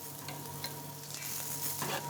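Sliced porcini mushrooms fry in a pan with duck fat, salt and pepper, giving a steady, soft sizzle and crackle with faint stirring scrapes. It is quiet and continuous, with no voices.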